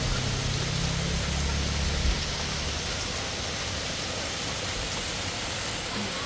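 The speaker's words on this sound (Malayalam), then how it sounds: "നല്ല സൂപ്പർ മഴ പെയ്യുന്നുണ്ട്." Heavy rain falls steadily outdoors, a dense, even wash of noise for the whole stretch, with a low hum in the first two seconds and no talking.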